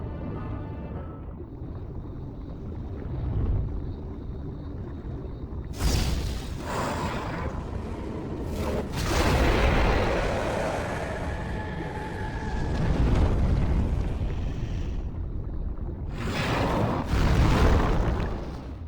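A ballista in the Demon's Souls fight against the Dragon God fires with heavy whooshing booms, three big bursts rising over a constant low rumble of battle.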